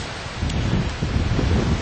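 Strong wind buffets the microphone outdoors, a loud, rumbling, gusty roar that swells and dips throughout with no voices.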